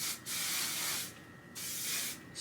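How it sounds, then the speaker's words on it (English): Refinish Control hairspray hisses from an aerosol can in three short bursts separated by brief pauses, close and fairly soft. "Refinish Control Hairspray."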